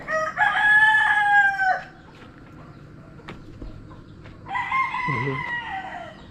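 Two loud rooster crows close by on a mango farm with livestock, each long and drawn out, separated by a short quiet gap with faint farmyard background.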